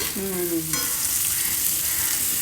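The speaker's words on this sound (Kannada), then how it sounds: "ಈರುಳ್ಳಿ ಎಷ್ಟು ಚೆನ್ನಾಗಿ ಫ್ರೈ ಆಗುತ್ತೆ ಅಷ್ಟು ಗ್ರೇವಿ ಚೆನ್ನಾಗಾಗತ್ತೆ" Onions fry for chicken gravy in a hot pan, a steady close sizzle with stirring, while a brief whistle-like tone sounds near the start.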